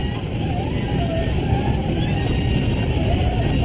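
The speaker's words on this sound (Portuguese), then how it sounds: "o avião vira violentamente e mergulha" A Grumman Mallard seaplane rolls violently and dives from about 500 feet, heard as a steady loud engine drone with a high whine throughout.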